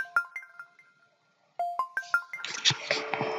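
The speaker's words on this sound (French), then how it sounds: "vous avez le son qui accompagne la notification, comme vous pouvez le voir" Windows 10 notification chimes triggered from PowerShell: several short bell-like melodic tones, a pause, then another run of chimes ending in a brighter, noisier burst, all clear and alone.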